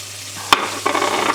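Finely diced bacon, a single rasher, frying in a pan: a steady light sizzle with one sharp knock or scrape partway through, then a louder, busier crackle as the frying picks up.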